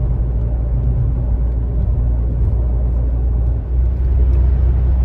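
Inside the cabin of a 2001 Peugeot 406 with automatic transmission, a steady low engine and road rumble drones continuously while driving, loud and even from start to finish with no talking.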